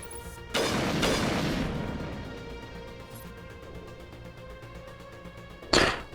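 Sniper rifle shots fired in the Mass Effect video game: one loud, booming report near the start with a long decaying tail, then a second sharp shot close to the end, both over a low game backdrop.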